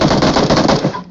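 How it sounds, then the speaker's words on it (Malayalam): A loud, close burst of rapid automatic gunfire rattles for about a second in the battle royale game BGMI, then cuts off sharply. "ഏതോ ഒരു ടെറസിന്റെ നോക്കത്തുനിന്നൊക്കെ അടി കേക്കുന്നുണ്ട്."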